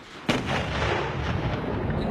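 Hotchkiss guns and a rifle volley in a massacre scene: one heavy booming report followed by a sustained, rumbling roar of continuous gunfire, loud and dense with no voices.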